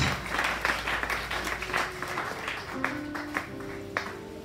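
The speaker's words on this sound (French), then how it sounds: "Acclamez très fort pour son témoignage." A church congregation gives loud applause after a testimony, a brief burst of clapping from a gathered crowd with a few voices calling out over it.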